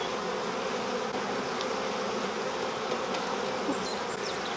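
Honeybees hum in a dense, continuous drone during a hive inspection, with the buzzing steady and close, no voices heard.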